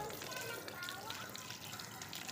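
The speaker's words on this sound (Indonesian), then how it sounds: "Kita siram dengan air keran." Tap water sprays from a hose onto a toy Pertamina truck as it is washed, a steady hissing gush with drips. A voice talks over it.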